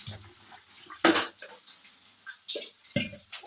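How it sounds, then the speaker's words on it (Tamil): Tomatoes for a sundakkai vathal kuzhambu being washed under running tap water, with short splashy bursts of flowing water close by and quiet gaps between them. "தக்காளி நல்லா கழுவி எடுத்து"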